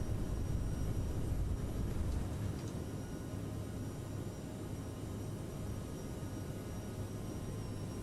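An Aerosoft CRJ900 regional jet takes off in Microsoft Flight Simulator, its engines producing a steady, loud roar that holds evenly from start to finish, with no talking.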